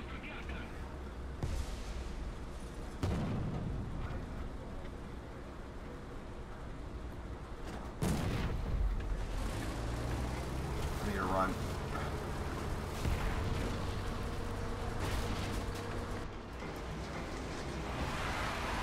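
Twin-barrel tank cannon fires in War Thunder, giving heavy booming blasts within a dense rumbling battle soundscape as several people talk over the top.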